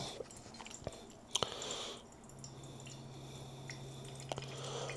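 Water drips and trickles through a pour-over coffee filter of coarsely ground coffee, soft irregular drips and small liquid splashes close by, quiet and without talk.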